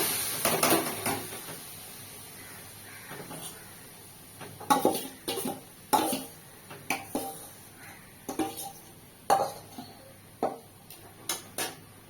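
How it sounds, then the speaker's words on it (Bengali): Goat meat being tipped into an empty, oil-free kadai, heard as a run of sharp metallic clanks and scrapes at close range, spaced irregularly over a quiet background. "এই কড়াইয়ে আমি এই মাংসটাকে এই যে ঢেলে দেব"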